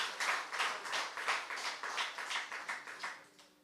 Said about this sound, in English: Give them a wonderful round of applause for executing our projects.